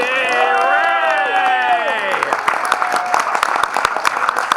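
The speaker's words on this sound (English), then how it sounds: "So big round of applause for Rick." Breakfast audience at the Groundhog Day Official Breakfast in Woodstock, Illinois, applauding loudly and steadily, with a voice speaking over the clapping at the start before the sound settles into dense clapping.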